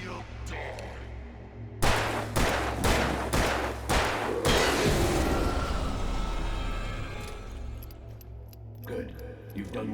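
Gunfire in Alan Wake Remastered cracks out as a rapid burst of about five loud, close shots, then a rumbling blast that fades away. Voices talk faintly underneath.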